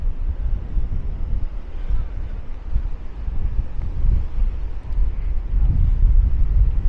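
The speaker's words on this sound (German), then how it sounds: "mit dem Wind ist es, ich würde sagen, eher ungemütlich" Steady, heavy wind blows across the beach at Maspalomas on Gran Canaria, roaring and buffeting the microphone throughout with a constant low rush, and surf may be faintly mixed in.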